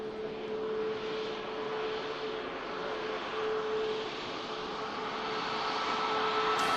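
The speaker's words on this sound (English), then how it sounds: "Ryanair vacates right in front of us." Ryanair airliner taxiing off the runway at Manchester Airport, a steady broad jet engine rumble and whine heard from a distance, fairly constant throughout with no talk.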